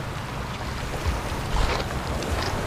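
Ocean waves wash against the shore at Faelan Beach, a resort in Batangas City, as a steady broadband rush with wind buffeting the microphone and a slightly louder surge near the middle; no one speaks.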